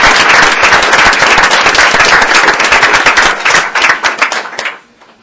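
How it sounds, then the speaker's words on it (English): Audience applause at a school board meeting honoring a state principal of the year: loud, dense, close clapping that sustains for several seconds, then quickly tapers off and stops. "So once again, a round of applause for our Georgia Principal of the Year."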